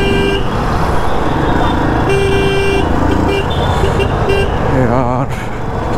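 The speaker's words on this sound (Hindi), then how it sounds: "10 मिनट हो गए भाई इस ट्रैफिक में ऐसे चलते हुए इतनी स्पीड में।" Slow, congested highway traffic surrounds a Royal Enfield Bullet 350 motorcycle crawling along in first gear, with loud engine rumble, several car horns tooting near and far, and someone talking over the noise.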